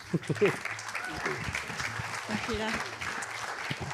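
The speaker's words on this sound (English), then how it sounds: "we're going to give a round of applause to our panel, Joel, Dan, Hannah, and Tom." Audience applause for a panel at a One Health talk on soil and gut health at the Groundswell 2024 event, a steady crowd clapping filling the room, mixed with some voices throughout.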